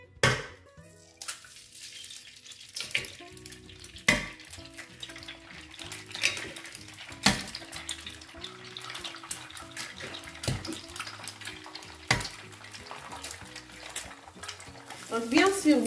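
Eggs hit an oiled pan and fry for a Senegalese-style prawn fried rice, a quiet sizzle broken by repeated scraping and stirring knocks and a few louder clatters, close and without speech.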